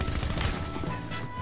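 Rapid gunfire in a Fortnite match, with close, dense bursts of shots running continuously through a short stretch of game sound.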